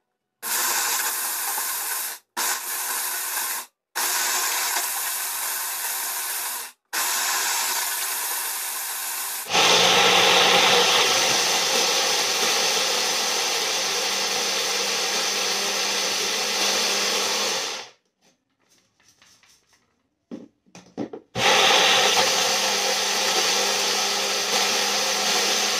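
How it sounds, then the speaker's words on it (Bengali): An electric mixer grinder pulverizes dried lemon peels into powder in a jar, loud whirring bursts that stop and start several times, then a long continuous grind, a short pause, and another run. "মিক্সিতে এইভাবে লেবুর খোসাগুলি খুব ভালো করে গুঁড়ো করে নিয়ে একটা পাউডারের মতো তৈরি করে"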